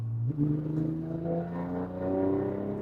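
A turbocharged Nissan Skyline GT-R engine revs up and holds a rising, droning tone, harmonics climbing steadily, fairly close and loud with no talking.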